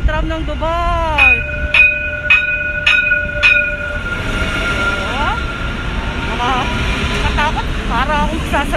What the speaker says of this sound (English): Yan, ang tram ng Dubai.